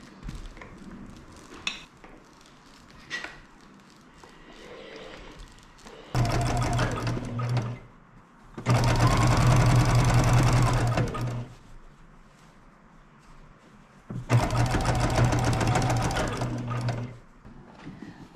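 A Baby Lock Jazz II sewing machine stitches a quilt in three sustained runs of fast, whirring stitching, separated by quieter stretches of light handling noise. No one speaks.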